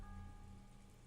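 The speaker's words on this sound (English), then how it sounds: "the sound of the rain was making her sentimental" Rain in the video game Umineko no Naku Koro ni Chiru falls as a steady, soft hiss of drops on a surface, continuous and even, with a faint low musical hum beneath.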